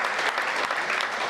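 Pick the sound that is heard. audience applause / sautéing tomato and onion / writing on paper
audience applause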